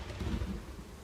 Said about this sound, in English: A lightning strike. It seems to have struck an area near the forest. That was so loud.